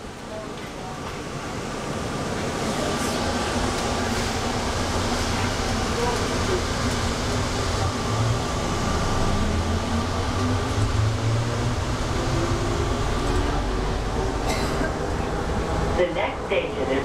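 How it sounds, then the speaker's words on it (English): An Atlanta Hartsfield-Jackson airport people mover train runs with a steady, loud rumbling roar and rushing air, continuous throughout, heard from inside the car. "This train is departing."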